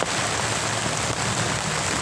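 Steady heavy rain falling at a natural fishing spot, a dense, continuous hiss of drops on surfaces, loud and close with no voices.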